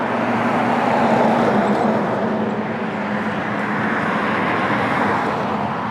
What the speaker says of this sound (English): we have a lot of highway traffic